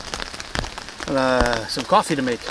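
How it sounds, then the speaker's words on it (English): Steady rain falls on an outdoor campsite in a dense, even patter that carries on beneath someone talking close by. "since it's raining so much"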